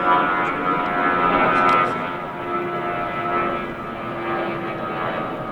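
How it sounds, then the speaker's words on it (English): An airplane drones overhead, a steady engine rumble in the distance that swells and fades slightly while passing. "there's a plane up there ruining my video"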